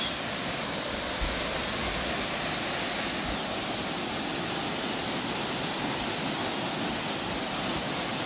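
Pasalan Falls in Barangay Nasig-id, Zamboanguita, Negros Oriental, pouring in a steady broadband roar of falling water that runs unbroken and fairly loud throughout, with no voices.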